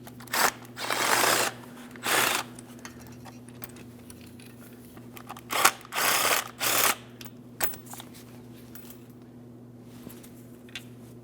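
A ratcheting socket wrench loosens the starter mounting bolts on a 2005-2010 Chrysler 300 with a 5.7L V8, in several short, close bursts of rapid clicking separated by quiet pauses and a steady low hum.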